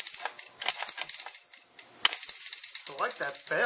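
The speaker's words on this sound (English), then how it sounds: "This is ringing the alarm in the elevator." Elevator alarm bell ringing in loud continuous bursts with brief gaps, close by, with a voice talking over the end.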